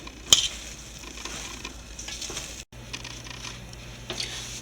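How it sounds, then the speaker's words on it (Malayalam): Soya chunks stirred in a pan with vinegar and spices, a soft continuous sizzle and scraping of the spoon close by, steady and fairly quiet with no talk. "ഒരു ഒരു സ്പൂണോളം വിനാഗിരി ഇതെല്ലാം കൂടെ നല്ലപോലെ മിക്സ് ചെയ്യുക"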